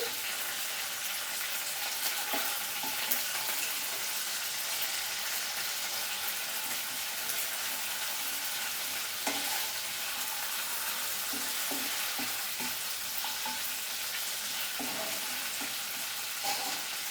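Onion with ginger garlic paste frying in a pan makes a constant, even sizzle for about seventeen seconds, close and moderately loud, broken only by a few faint clinks and spatters, with no voices.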